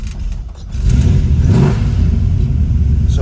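A rebuilt 350 V8 in a 1966 Chevy II Nova SS with a Hurst four-speed cranks and catches, settling into a loud, steady low rumble close by with a slight rise as it revs.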